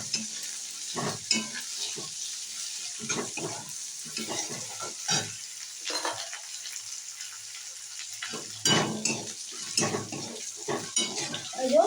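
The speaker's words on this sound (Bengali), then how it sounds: "গ্যাস অফ করে হালকা করে একটু নেড়ে দিচ্ছি" A spatula scrapes and stirs ground shrimp paste frying in a pan after the gas is switched off, giving repeated close clinks and scrapes over a soft sizzle, with brief quiet gaps between strokes.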